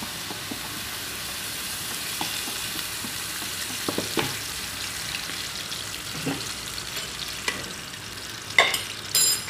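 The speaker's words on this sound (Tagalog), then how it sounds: "magpiprito po tayo ng sibuyas." Plenty of onions frying in a pan for kushari make a continuous even sizzle, close and moderately loud, with scattered light clicks and a few clatters near the end. No voices.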